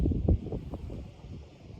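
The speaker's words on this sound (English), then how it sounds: "it's windy" Gusty outdoor wind buffets the microphone in low, rumbling bursts, strongest near the start and then settling into a steady, softer rush with no voices.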